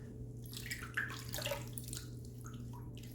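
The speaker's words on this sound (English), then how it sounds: "get some water on the face" Water splashed and patted onto the face from a sink before a shave, soft close splashes and drips over a low steady hum, with no talk.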